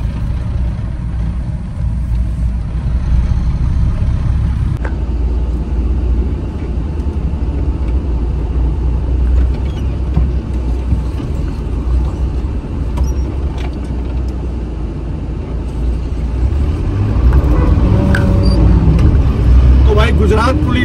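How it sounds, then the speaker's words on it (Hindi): Cars roll one at a time through a police barrier at the Gujarat border, a low continuous engine rumble and road noise that swells near the end, with people talking over it. "सिंगल सिंगल गाड़ी निकल रही है यहाँ से"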